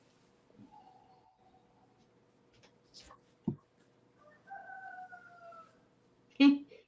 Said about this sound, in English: you hear the roosters